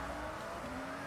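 A Toyota Supra rally car in Forza Horizon 6, its engine droning with a steady tonal whine that shifts pitch midway, brief and fairly quiet.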